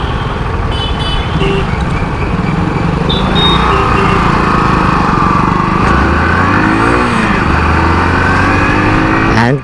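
A Hero Super Splendor Xtec motorcycle engine accelerates, giving a loud, steady, buzzing drone with rising and falling pitch as it revs and shifts, under strong wind rush throughout.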